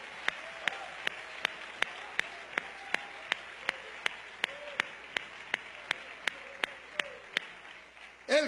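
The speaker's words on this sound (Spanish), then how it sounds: "Denle un aplauso al Señor por eso." A church congregation clapping in unison, sharp claps landing in a steady, evenly spaced rhythm over a low murmur of voices.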